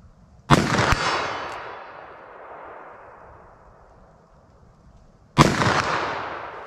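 .44 Magnum handgun shots with Hornady LEVERevolution rounds: two loud, sharp reports several seconds apart outdoors, each followed by a long echoing rumble that fades.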